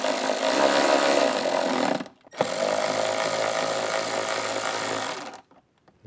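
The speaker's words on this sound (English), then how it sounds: "This is a T20 Torx bit." A power driver fitted with a T20 Torx bit backs factory screws out of a speaker in a 2024 Jeep Wrangler, whirring loudly and steadily for two bursts with a brief pause between them, close up and with no talk.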